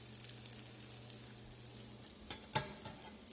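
A grilled cheese sandwich, just flipped with a spatula, sizzles steadily in a frying pan, with a faint hum early on and a sharper scrape or clatter near the end.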